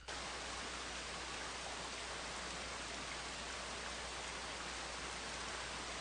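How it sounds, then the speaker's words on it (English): Heavy rain as a recorded nature sound, a dense, steady, loud wash of falling water with no breaks or voices. "Rain heavy."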